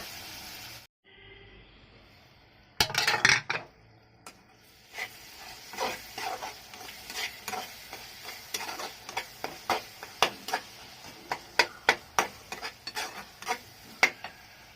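Tomato pasta sauce with salt and chili powder cooks in a pan, giving a low, steady sizzle. Frequent sharp clicks and scrapes of a spoon stirring come through up close.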